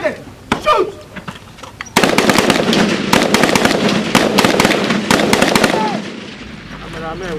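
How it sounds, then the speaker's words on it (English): Army gunfire in a tactical maneuver and assault demonstration on an enemy defensive position: dense, loud bursts of rapid shots run almost continuously after a brief quieter opening with shouting voices. "The final exercise is a demonstration of tactical maneuver and assault of the enemy's defensive position under effective firepower."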